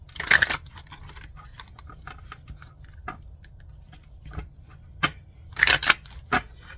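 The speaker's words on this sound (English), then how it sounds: "let me shuffle the deck" A deck of cards being shuffled during a tarot-style pick-a-card reading, heard as two brief bursts of riffling at the start and near the end, with scattered soft ticks and card handling in between and no talking.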